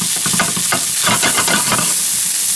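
Cooked quinoa warms in a hot pan beside pork chop drippings, a loud steady sizzle with scraping stirring strokes throughout.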